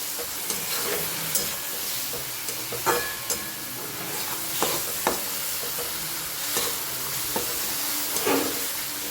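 Green onion and tomato sabji with turmeric, red chilli and coriander-cumin powder frying in a pan, a steady close sizzle punctuated by repeated spatula scrapes and taps as the spiced mixture is stirred.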